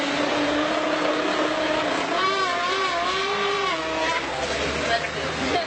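A man imitates a race car engine with his voice, rising and falling revving tones like an accelerating motor, loud and close, with a faint crowd murmur behind him at a car show.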